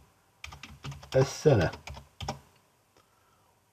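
Quick bursts of typing on a computer keyboard as an axis label is entered in the Desmos graphing calculator, close and clicky, with a person speaking briefly over the keystrokes before a quiet pause.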